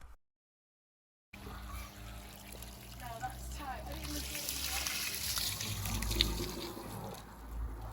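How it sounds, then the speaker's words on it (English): Water from a paddling pool being pumped out through a tube and pouring onto the ground, a steady splashing trickle that starts after a second of silence and runs continuously, fairly close. "the tube will just collect everything, and then it's going to be pumping it out onto the ground"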